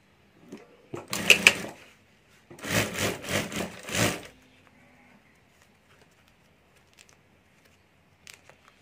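A sewing machine stitches lining onto a ladies' wallet in two short, close bursts of rapid mechanical whirring, separated by a pause and followed by near silence with small handling clicks.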